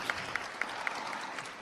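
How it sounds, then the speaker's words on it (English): Audience applause fills a conference hall at an African entrepreneurship forum, a continuous crowd of clapping with a few sharper individual claps standing out at regular intervals. "Please give him a round of applause."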